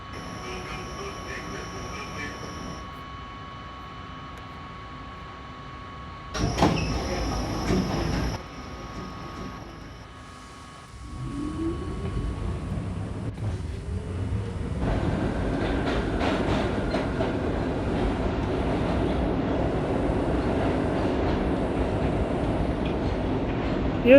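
An R38 subway car running on the A train in New York, with a steady rumbling ride, a rising wheel squeal, and an onboard announcement and chime early on, the noise growing louder and fuller as the train picks up speed.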